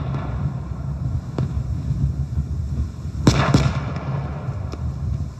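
Gunfire and explosions from the video game Squad, heard as a dull, wind-like rumble broken by a couple of sharp cracks and a distant boom in the middle, with no talking.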